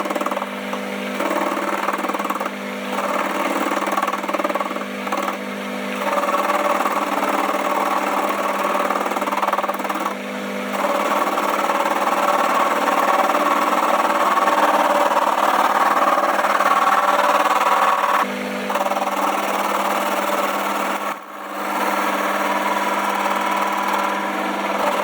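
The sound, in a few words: lathe facing and turning a tool height gauge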